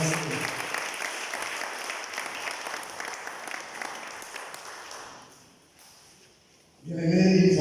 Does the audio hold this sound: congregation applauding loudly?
yes